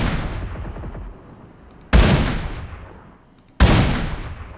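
Two loud, sharp gunshots from PUBG Mobile's robot mode, fired at a robot. Each shot is followed by a long decaying echo, with a fainter burst of fire before them.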